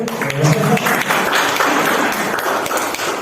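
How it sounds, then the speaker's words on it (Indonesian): Applause from an audience of teachers at a school workshop on positive culture, a brief scattered burst of clapping with some speech-like voices over it, fading to a softer patter. "Tepuk tangan dulu."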